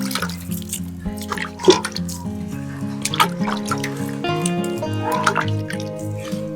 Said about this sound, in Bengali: আগে একটু এখানে জল দিয়ে দেবো